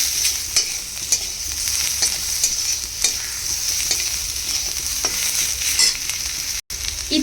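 Tempering spices sizzle and crackle steadily in hot oil over a high gas flame, with occasional sharp clicks of a spoon stirring the pan, close and continuous.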